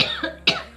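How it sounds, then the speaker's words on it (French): A woman recovering from bronchitis gives two close, hoarse coughs, the second harsher and louder, with nothing else around them. "attention je vais tousser"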